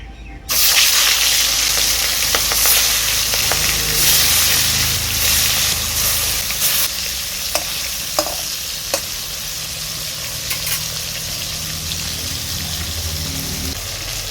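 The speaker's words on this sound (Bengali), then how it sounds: "তেল গরম হয়ে গিয়েছে, এবার আমি মাছগুলোকে ছেড়ে দেব।" Boal fish fry in hot mustard oil in a kadai with a loud, continuous sizzle and crackle close by, broken by a few clinks and stirring sounds.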